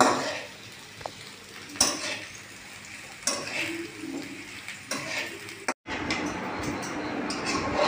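Pasta is stirred in a pan on the stove, with scattered clinks and scrapes of a utensil against the pan over a faint wet bubbling background, including one brief dropout near the end.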